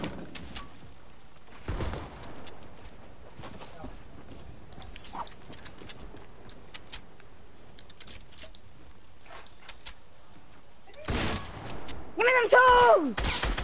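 A burst of gunfire from a first-person shooter video game rings out, with sharp bursts near the start and again near the end, spread across mostly quiet game sounds as voices talk briefly.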